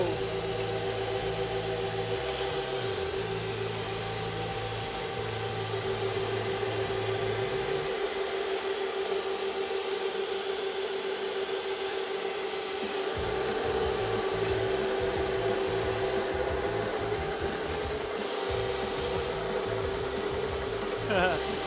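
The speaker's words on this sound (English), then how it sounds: "So we need the trimmer on. Yep. We need vacuum on." A case trimmer runs alongside a shop vacuum while .223 brass cases are trimmed, giving a steady, loud motor whine and rushing airflow throughout, with the low-end drone shifting in pitch partway through.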